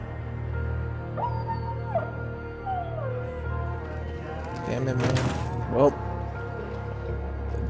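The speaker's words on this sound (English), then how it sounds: "Dog's not there, but it's whining." Dog whining and whimpering from the video game Dying Light 2, thin rising and falling whines repeating over a low steady game ambience, with a louder burst near the end.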